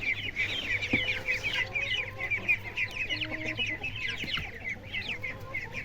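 Several chickens cluck and chatter continuously at close range, with a low steady hum in the background.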